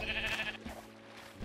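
Sheep bleating in Minecraft, a clear tonal bleat that drops off, followed by quieter game ambience and a soft second bleat near the end, with no talk.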